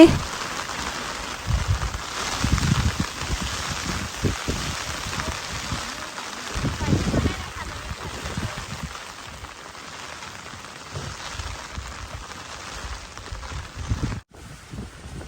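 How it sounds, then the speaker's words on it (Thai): Heavy rain pouring down at a mountain homestay in Doi Chang, Chiang Rai: a steady hiss of rainfall with gusty low rumbles that sound like wind on the microphone, continuous and moderately loud, breaking off briefly near the end. "ฝนก็กระหน่ำตกลงมาอย่างแรงทุกที"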